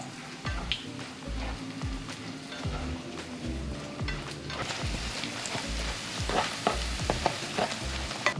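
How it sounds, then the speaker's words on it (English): Bread toasts in hot oil in a pan, giving a busy sizzle with repeated low thumps and scraping as pieces are moved, fairly close, no clear speech. "Alright, so we're toasting up the bread."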